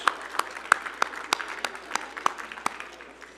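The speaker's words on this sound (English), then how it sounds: "Just want a big round of applause for those people" Thin, scattered clapping from a small audience at a hydrogen business innovation event, thanking the organisers; individual claps stand out clearly with gaps between them, then taper away.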